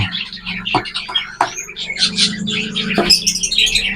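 A heavy pied cockatiel hen gives a rapid series of shrill chirps and squawks up close, with a few scratchy knocks mixed in and a low hum underneath.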